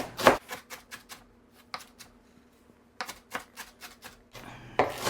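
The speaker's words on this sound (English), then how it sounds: "So I'm just going to give this a bit of a chop." A knife chops cilantro stems on a cutting board in quick, uneven bursts of crisp taps, with short pauses between the runs of cuts, close and clear.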